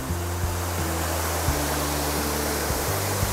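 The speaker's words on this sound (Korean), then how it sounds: "비밀스러운 곳에 이렇게 멋진 폭포가 흘러내리고 있습니다" A waterfall pouring down in a forest on a Jirisan mountain trail gives a steady, dense rush of water throughout, with faint sustained musical tones underneath and no voices.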